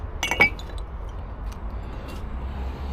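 Glassware clinking in a shop selling porcelain and glass tableware, a couple of bright close chinks early on, then faint light taps over steady low room hum.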